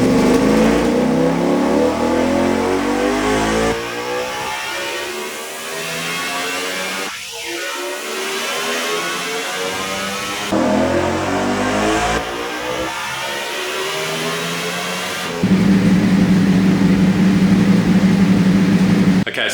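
A custom Ducati Panigale V4 on a dyno runs loud and close, climbing through repeated rising revs with abrupt gear-like steps and a brief drop-off midway, ending in a harsh high-rpm roar.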